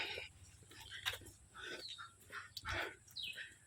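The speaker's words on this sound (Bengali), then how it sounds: "পশু পাখির ডাক শুনতে পারবেন।" Birds call in a Bengal village countryside among paddy fields, with ducks, chickens and native cattle kept at the homes nearby; there are several short, faint chirps and calls, scattered and fairly distant over a low background hum.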